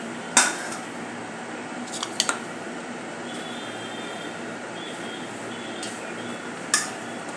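Jaggery being cut with a knife in a metal pan while making soft sesame laddoos: a few sharp scraping clinks, one loud near knock at the start, a quick double tap midway and another clack near the end over low hum.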